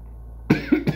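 Several sharp coughs from a person who has just bitten into a filled donut, three close bursts in about half a second following a quiet pause.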